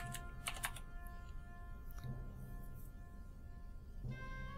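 Fast typing on a computer keyboard during a LOTRO game session, with quick clusters of close, light key clicks over a steady low game background hum, no voices.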